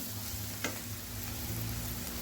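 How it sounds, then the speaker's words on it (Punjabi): A steady, close sizzle of chilies and onions frying in hot oil, continuous hissing with no voices. "ਮੈਂ ਹਰੀ ਮਿਰਚ ਤੇ ਪਿਆਜ਼ ਬਸ ਇਹਦਾ ਹੀ ਤੜਕਾ ਲਗਾ ਰਹੀ ਹਾਂ"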